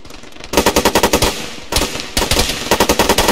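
Rapid bursts of automatic machine gun fire aimed at enemy combatants, loud and close, in several sustained rattling strings separated by brief pauses.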